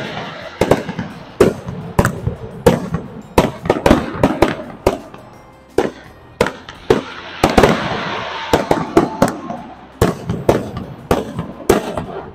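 Fireworks and firecrackers going off at New Year celebrations near Niagara Falls, a rapid irregular series of loud sharp bangs and pops, some clustered in quick bursts, echoing over low ambient crowd noise.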